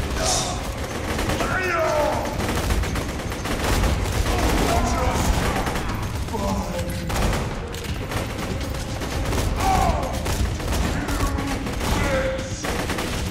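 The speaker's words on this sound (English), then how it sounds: "Liking this burst fire assault rifle." Burst-fire assault rifle shooting in Borderlands 2 multiplayer, repeated quick volleys layered with other game gunfire and effects, steady and loud throughout the clip, with players talking over it at times.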